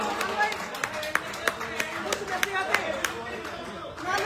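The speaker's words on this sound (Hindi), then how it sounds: "जोरदार तालियों से आप शायर की हौसला अफजाई करेंगे" Scattered audience applause for a poet at a mushaira at Faham Lawn in Bareilly, a few distinct claps popping out over crowd murmur and talk, moderately loud and irregular.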